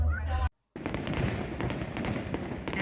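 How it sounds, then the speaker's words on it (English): Fireworks burst over the Capitol in Frankfort, Kentucky on the Fourth of July, a string of distant crackling pops and thumps after a brief dropout, with crowd murmur beneath. "we got to see the fireworks over the Capitol"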